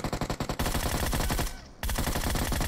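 Rapid automatic gunfire in PUBG Mobile, a quick burst of evenly spaced shots followed by a sustained dense volley, a short pause, then more continuous firing, loud and close.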